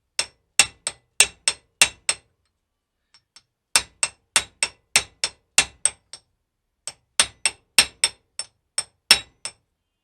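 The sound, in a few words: hammering a Honda ST1300 rear wheel flange bearing into place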